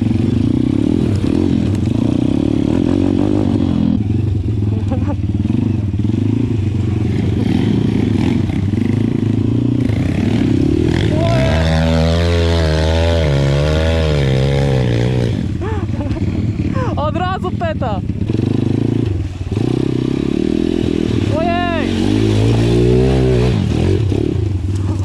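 A Pitgang 140XD pit bike rides hard off-road, its small engine revving and labouring loudly up and down with clatter and scraping, pitch climbing and falling in bursts, while riders shout over it.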